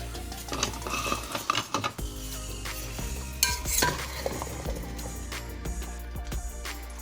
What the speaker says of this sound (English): now I'm going to add the potatoes